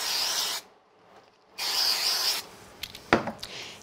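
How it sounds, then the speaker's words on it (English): Mounting spray from an aerosol can is sprayed onto the back of a crafted card in two hissing bursts with a pause between, followed by softer handling and rustling noises. "So I'm going to put some mounting spray on the back."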